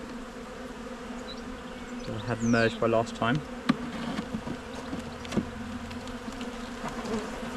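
Honey bees drone steadily inside an open hive during an inspection of a weak colony, with a constant close buzz and a voice speaking briefly over it.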